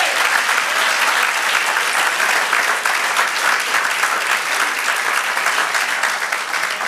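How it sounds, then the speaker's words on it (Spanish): A church congregation claps steadily and loudly at a Spanish-language sermon, a dense, even wash of hands that holds level for about seven seconds with no voices over it. "Si le va a dar el aplauso,"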